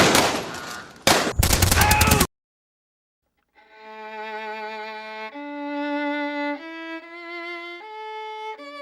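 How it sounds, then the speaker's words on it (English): Dramatized gunfire from nearby woods: a quick volley of loud close shots in rapid succession, then silence followed by swelling orchestral music. "shots rang out from the nearby woods"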